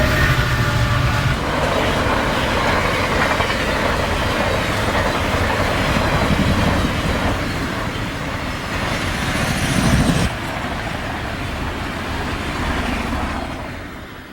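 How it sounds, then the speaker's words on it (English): A westbound Santa Fe piggyback freight train gathers speed at Willow Springs Road, a loud, close rumble with rhythmic wheel clatter and rolling cars that shifts near the end before fading slightly. "this westbound at Willow Springs Road is already picking up speed for the dash across the prairie"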